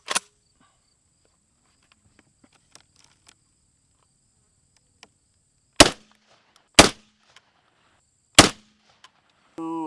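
Hatsan BTS 12 gas-operated bullpup shotgun firing buckshot, three sharp loud blasts spaced about a second apart after a long quiet stretch, with a few faint clicks and a brief crack at the very start.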